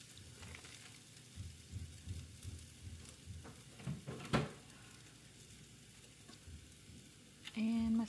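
Sausage frying in a pan gives a quiet, steady sizzle with small pops and crackles, and a brief clatter near the end.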